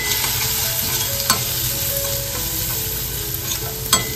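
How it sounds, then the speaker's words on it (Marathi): A spoon stirs masala and turmeric frying in a pan, giving a steady low sizzle with soft scraping strokes and a few sharper clinks against the pan, and no voices. "व्यवस्थित सर्व गोष्टी मिक्स करून घ्यायचे"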